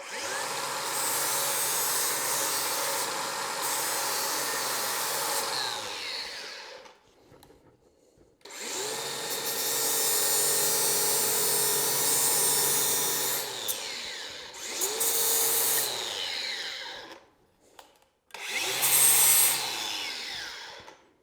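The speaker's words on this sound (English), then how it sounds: "we want to grind all of the mill scale off the front and off the back of the piece of plate" An angle grinder scours mill scale off a steel plate in long, loud, sustained bursts of abrasive whine, separated by short silences as the tool stops and restarts, close up with no talking.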